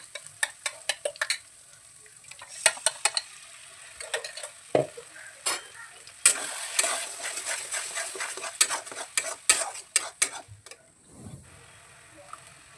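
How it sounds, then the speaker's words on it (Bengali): Green pea paste with ginger and green chilli paste is stirred in a wok: repeated sharp spatula scrapes and knocks come in quick bursts over a soft sizzle, close and without talk. "দিয়ে এটাকে ভালো করে আমি নাড়াচাড়া করে নেব জলটা যতক্ষণ না শুকিয়ে আসে"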